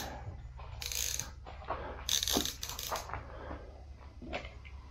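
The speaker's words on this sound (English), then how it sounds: "to change the drag on a lever drag rod, you have to back the lever right off into free spool, give that knob a bit of a twist" A lever drag fishing reel gives quiet mechanical clicks and ratcheting ticks while its drag knob is twisted, a few short close bursts over a low background, no talking.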